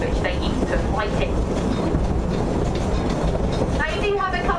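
The Whipsnade Zoo railway's Jumbo Express train runs steadily with a constant loud rumble and rolling clatter heard from on board, and a person talks over it.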